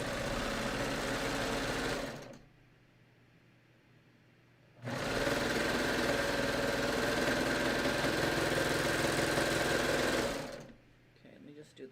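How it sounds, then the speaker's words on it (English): Sewing machine stitching the top and bottom edges of two fabric pieces together for a lined sleeve, two loud steady motor runs separated by a short quiet pause. "I'm just going to sew the top and bottom edge of these two pieces of fabric together"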